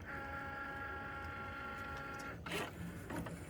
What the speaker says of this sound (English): that's how the Cricut works